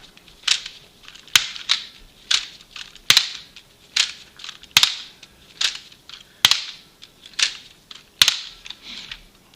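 A Nerf N-Strike Bowstrike toy blaster fires repeatedly, each shot a sharp snapping crack followed by a brief rattle, about ten evenly spaced shots at close range with no voices.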